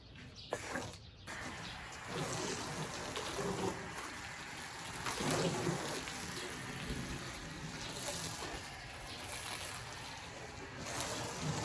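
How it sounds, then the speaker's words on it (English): A steady hiss of water spray rinses foam off a Jeep Grand Cherokee, varying slightly in intensity as it sweeps across the paint, with faint background sounds. "I foamed the car and then I rinsed it off before scrubbing it"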